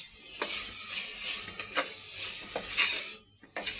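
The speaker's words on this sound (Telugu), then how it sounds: "ఉల్లిపాయలు వేగిన తర్వాత అందులో కొద్దిగా కొత్తిమీర వేసి బాగా కలపాలండి." Fried onions with coriander for tomato pulao are stirred in a hot pan: a bright, steady sizzle broken by several soft scraping strokes of a spoon, close up and with no speech.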